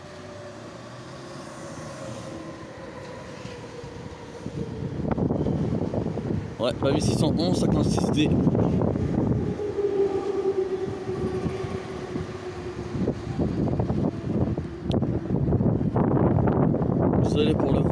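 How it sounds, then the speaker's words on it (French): A Z1 regional train arrives and rolls past in a long, loud rush of wheels and rail noise with squealing highs, building after a quiet windy start, while someone talks over it. "Voilà, une Z1 qui arrive."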